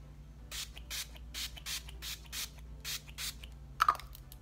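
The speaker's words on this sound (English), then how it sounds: "I do like using a lot of setting spray." Repeated short bursts of makeup setting spray sprayed onto a face hiss close by, about a dozen quick pumps in an uneven rhythm, with a small click near the end.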